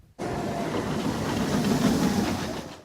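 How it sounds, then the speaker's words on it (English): A loud, steady rumbling roar of the Kumba roller coaster train rolling along its track at Busch Gardens Tampa, close by and continuous, with no voices. "Kumba is a very loud roller coaster."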